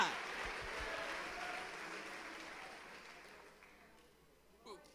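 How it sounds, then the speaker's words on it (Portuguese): A church congregation applauds during a Holy Supper worship service. The dense applause starts loud and gradually fades over several seconds. "Pode aplaudir o Senhor."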